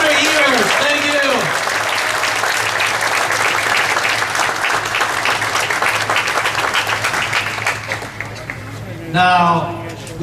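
Sustained applause from a large outdoor crowd at the Hmong Wausau Festival, dense and loud for about nine seconds, with a voice speaking over the start and someone talking again near the end.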